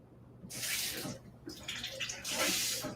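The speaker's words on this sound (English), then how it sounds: "Take a little bit of water and just splash real quick." A small splash of water hits hot cooking oil in a pot, setting off three sharp bursts of loud hissing sizzle, close and separated by brief lulls.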